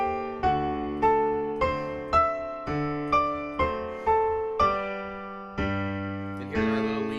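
Solo piano plays a section of Scott Joplin's ragtime piece The Entertainer, with evenly spaced bright chords and a bouncing bass line, clear and close, ending on a fuller chord.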